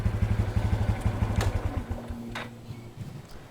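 A Honda Super Cub fitted with a Takegawa P-Shooter exhaust warming up, a steady low putt-putt idle with regular pulses, fading toward the end, with a couple of faint clanks nearby.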